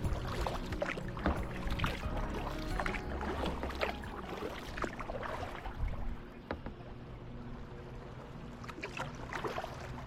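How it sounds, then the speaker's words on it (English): Paddle strokes and water sounds from a canoe on a river, with steady light splashing and dripping throughout, close by, with no talk. "It's been a good little paddle"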